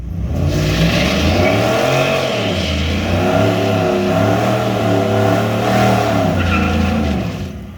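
A Ford car engine revs loudly and steadily, its pitch rising and falling in repeated swells of throttle across the whole stretch, close by with no talk over it.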